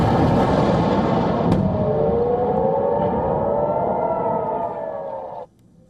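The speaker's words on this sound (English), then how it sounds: "footage showed a blast on the ground along with echoing sirens" A wailing air raid siren drones steadily, echoing over a low rumble, then cuts off abruptly near the end.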